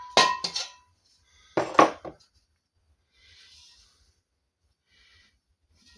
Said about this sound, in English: I'll go back to the rubber mallet.